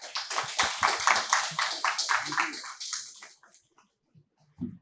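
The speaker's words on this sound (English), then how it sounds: "Please join me in welcoming Mr. Karthik S with a warm round of applause." A warm round of applause from an audience at an IIT Madras talk, welcoming a guest speaker: dense, steady clapping for about three seconds that thins out and stops, followed by near silence and a faint sound at the end.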